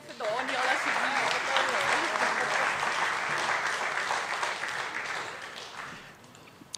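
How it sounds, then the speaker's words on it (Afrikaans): An audience at a university debating competition final applauds for Daniel, with dense, loud clapping that fades toward the end and some voices audible beneath it. "Hande klap gee vir Daniel asseblief."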